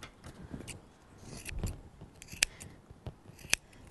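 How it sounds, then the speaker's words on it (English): Scissors snipping hair for a DIY haircut, a few sharp close snips spaced apart over quiet background rustle, two of them standing out crisply near the end. "This is looking like it needs a few more snips."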